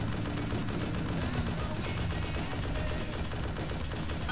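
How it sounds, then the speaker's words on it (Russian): Distant gunfire from a hill in a military video game, a continuous clatter of rapid shots and bursts blended into a dense, noisy battle din at low level, no talk. "С горы еще стреляют"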